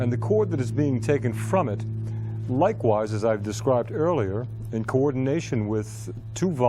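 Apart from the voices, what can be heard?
No everyday noise stands out behind the speech.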